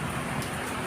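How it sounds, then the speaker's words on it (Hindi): Heavy rain falls in a dense, steady hiss outdoors, a brief continuous wash of drops. "बहुत ज़्यादा बारिश हो रही है"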